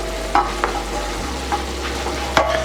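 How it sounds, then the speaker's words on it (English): Picadillo of ground beef and potatoes simmering in a pan with a steady soft sizzle and bubbling, plus a few faint scrapes from stirring, close and continuous with no voices. "Now we are gonna let this cook down and let it simmer for a little bit."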